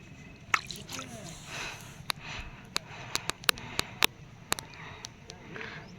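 Hand dipped into cold stream water outdoors, with small splashes and drips in a brief irregular patter, fairly faint against ambient background.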